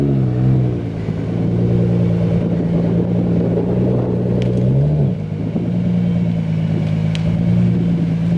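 A vehicle pulls slowly onto an 8.5 x 26 trailer, its engine a steady close low drone that shifts pitch briefly midway, with no talking.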